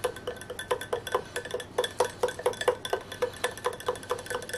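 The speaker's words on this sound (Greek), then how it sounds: "Ανακατεύουμε." A spoon stirs tomato sauce with anise in a pot, scraping and clinking in a steady quick rhythm, close and clear with no talk.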